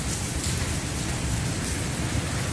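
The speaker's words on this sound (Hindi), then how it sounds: "ये देखिए और तेज़ हो गई है।" Heavy rain pouring down steadily and loudly, a dense continuous roar of drops on surfaces filling the whole clip with no voices.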